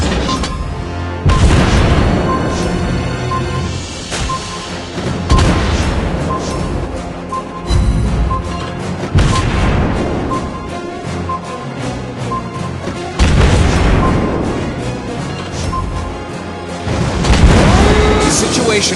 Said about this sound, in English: Torpedoes! We're under attack!